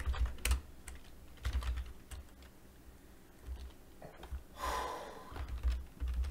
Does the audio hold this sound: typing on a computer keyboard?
yes